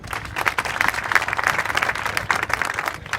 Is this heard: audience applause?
yes